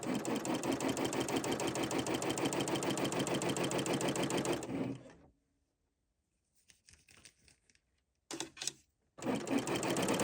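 A BERNINA L 890 overlocker stitches yarn cording in a steady, fast mechanical whir, stops abruptly midway, leaving near-silence with faint handling, then runs again in two bursts.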